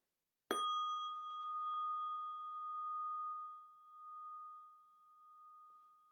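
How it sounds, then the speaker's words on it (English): A meditation bell is struck once, a clear bright ding that rings on as a long, pure, slowly fading tone for several seconds in a quiet room. "So I'm going to ding the bell."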